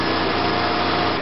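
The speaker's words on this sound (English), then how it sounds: "A lot of motor scooters, motorbikes." Motor scooters and motorbikes in Manaus, Brazil traffic buzz briefly in a high, steady whine, close and fairly loud.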